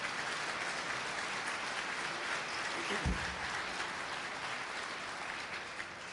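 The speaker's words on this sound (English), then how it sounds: "why don't we give the two of them a round of applause for coming out today to support our event" Dense, even applause from a breakfast-event crowd for the governor and mayor, a continuous wash of many hands at a moderate distance, with a brief low thump about halfway through.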